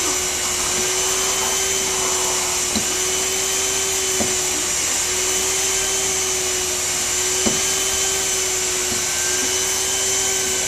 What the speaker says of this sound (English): we're just going to put the nozzle between the sheets and heat up the vinyl and use the pressure roller to seal the weld